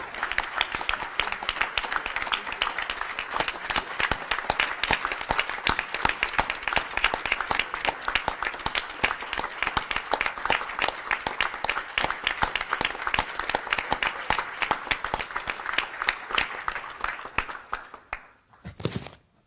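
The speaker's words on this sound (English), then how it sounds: "So let's give a great round of applause for Governor Terry Branstad." Sustained applause from attendees at the closing session of the National Governors Association's 2017 winter meeting for Governor Terry Branstad, many hands clapping steadily and fairly loudly for about eighteen seconds before tapering off.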